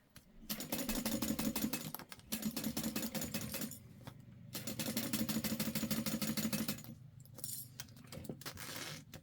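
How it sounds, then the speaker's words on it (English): Domestic sewing machine stitching a quarter-inch seam on a clear vinyl bag, running in three rapid mechanical bursts with short pauses between them, fairly quiet and without talk. "I'm going to stitch this on at 1/4 of an inch seam allowance, making sure to back stitch."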